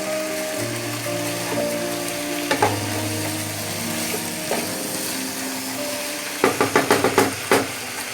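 Chicken pieces frying in a pan over a medium flame for biryani, a steady sizzle broken by several quick clattering stirs of a spoon against the pan toward the end, close and without talk.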